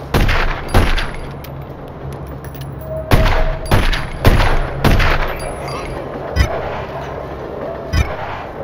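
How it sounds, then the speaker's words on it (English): Gunshots at a shooting-practice range in The Godfather video game, several loud sharp bangs spaced a second or so apart, some in quick pairs, over a steady low background hum. "Try to shoot that dummy from the corner."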